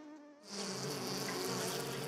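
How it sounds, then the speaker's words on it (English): A mosquito's thin, high whine starts suddenly after a moment of near silence and hums on steadily and close, faint overall, with no voices. "it's the whining of a mosquito in the dark"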